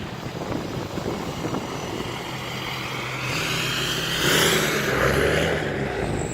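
A Ford F-250 diesel truck drives along a road, its engine drone and tire rumble steady inside the cab, building into a louder whoosh of rising speed.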